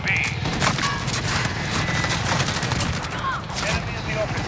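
Dense gunfire in Call of Duty Modern Warfare, with rapid automatic bursts and overlapping shots running continuously and loudly, under a busy mix of game voices and action.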